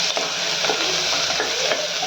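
Chopped onion sizzles and crackles in hot oil with cumin seeds, steady frying broken by several short scraping stirs of a spoon against the pan, close and alone.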